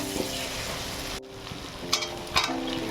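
Taro pieces frying in a pan of meat curry, giving a continuous close sizzle with a brief dip partway through and a few sharper spatula clatters near the end, with no talking.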